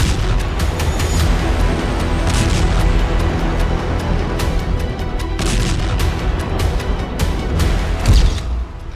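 Heavy booms and blasts rumble one after another, some sharp and close, others deep and rolling, from Israeli airstrikes on military assets in Syria.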